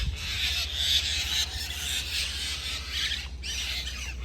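Distressed birds squawking in Thailand as a dog catches one of them, harsh repeated calls at moderate distance over a steady low hum.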